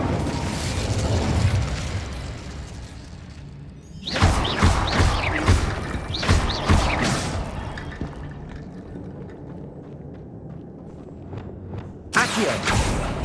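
Incendio fire spells are cast in the Hogwarts Legacy video game, setting off loud roaring, crackling bursts in a cluster, then quieter rumbling and another sudden blast near the end, with no voices.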